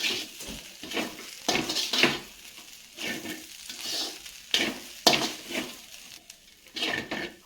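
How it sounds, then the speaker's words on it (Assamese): Carrots and rice frying in a pan and stirred constantly, with repeated scraping strokes of a utensil against the pan over soft sizzling, close and rhythmic. "গাজৰখিনি দিয়াৰ পিছত লৰাই থাকিব লাগিব, নহ'লে তলত লাগি থাকে।"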